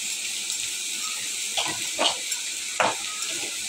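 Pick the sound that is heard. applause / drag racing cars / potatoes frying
potatoes frying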